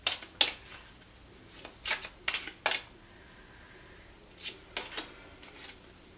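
Tarot cards shuffled and drawn by hand, giving several short, crisp bursts of riffling and snapping that come in small clusters between quiet pauses, close and fairly soft, with no voice over them.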